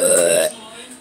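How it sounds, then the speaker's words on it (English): A single loud, drawn-out burp from a plush puppet character, close and clear for about half a second, then quiet room tone. "I have a burping problem"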